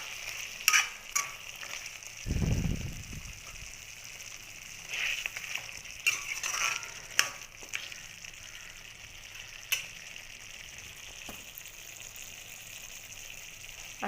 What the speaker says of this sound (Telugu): వేసుకొని బాగా మిక్స్ చేసుకుందాం.